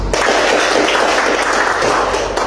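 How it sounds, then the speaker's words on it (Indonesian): A classroom of students in a group guidance session in Palembang breaks into steady, dense applause, many hands clapping close by for the whole moment without a pause. "Boleh applause dulu"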